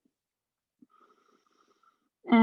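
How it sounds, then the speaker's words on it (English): A deep inhaled breath during a vinyasa yoga flow class, a faint soft airy draw heard alone in quiet, ending in a brief louder sound. "Then deep inhale."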